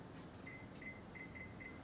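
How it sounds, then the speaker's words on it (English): A kitchen timer beeps while being set during green bean blanching, giving five short, evenly spaced high-pitched electronic tones over a steady low background hum. "then I'm gonna set my timer"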